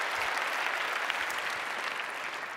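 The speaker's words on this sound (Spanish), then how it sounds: "Por favor, démosle un aplauso a ellos." An audience claps steadily at an indoor gathering, a dense, even wash of applause from a group of people, with no voices over it.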